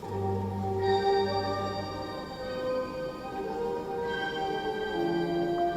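Hip hop beat melody stacked in three layers, the original line joined by pitched-up and pitched-down copies, playing steadily with sustained tonal notes and a low bass bed.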